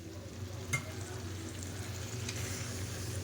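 Browned chicken frying with freshly added chopped onion for a homemade chicken curry, giving a steady, close sizzle with a brief clink near the start and no talking.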